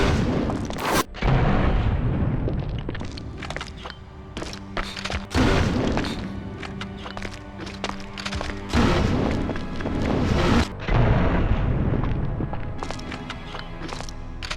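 Flame rounds fired from a weapon in Resident Evil Outbreak File 2: loud, dense bursts of booming, crackling fire repeat over a sustained game soundscape, separated by brief gaps.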